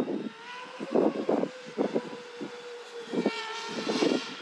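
A very large FPV drone drones overhead with a loud, steady propeller whine that swells and fades as it passes, with short bursts of louder buzzing from changes in throttle.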